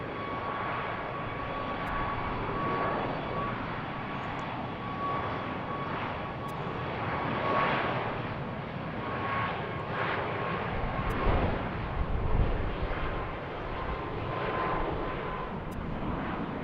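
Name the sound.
Southwest airliner departing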